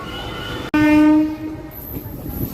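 A sharp click comes just before a speeding MEMU train on the Visakhapatnam to Parvatipuram run gives a short, loud horn blast, followed by steady running noise and a thin high whine.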